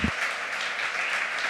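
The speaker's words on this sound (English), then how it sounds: "give him a big round of applause." A short, even wash of applause from a workshop audience, continuous clapping at moderate distance with no voices standing out.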